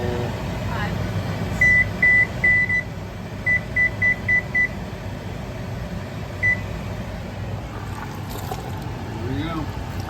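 A kitchen timer being set to five minutes while shrimp gumbo simmers gives a run of short electronic beeps, three then four, followed by one more, over steady cooking hum and background noise.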